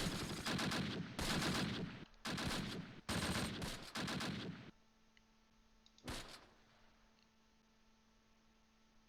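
Gunfire in a World War II Arnhem battle in a Close Combat tactics video game: four loud bursts of rapid automatic fire, a final short burst after a pause, and a low steady hum underneath.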